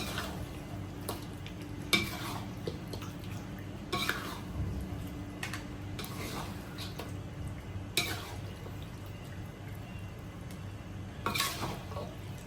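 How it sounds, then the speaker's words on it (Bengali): Beef with spices is stirred in a cooking pot, with a spoon scraping and clanking against the metal every second or two over a continuous low sizzle, close up and fairly quiet. "এখন আমি গোস্তটা ভালো মতো এইভাবে উপরে নিচে করে নিব যেন নিচে থেকে যে মশলাগুলো আছে এই গোস্তের সাথে মিক্স হয়ে যায়"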